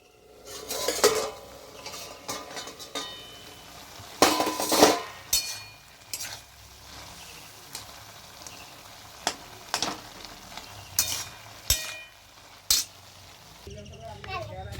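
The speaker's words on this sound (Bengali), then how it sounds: "আলু ভাজা চাপিয়েছে" Potatoes fry in a home kitchen pan, metal spatula clanking and scraping against it in irregular bursts over a low sizzle, with people talking nearby, including a child.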